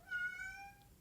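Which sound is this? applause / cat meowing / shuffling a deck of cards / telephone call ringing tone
cat meowing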